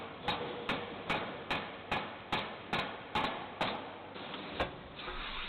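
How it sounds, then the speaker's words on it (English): A mechanical press forging a hot eyebolt billet in a die, giving about a dozen evenly spaced heavy thuds with short metallic decays, loud and close against a steady industrial background, no talking. "The hot billet is then placed in the first die, where it is roughly shaped using a mechanical press."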